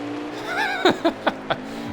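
Race cars at Sonoma in a racing video game whine with rising and falling engine pitch, followed by four quick, evenly spaced bursts as cars pass close by, moderately loud with faint talk underneath.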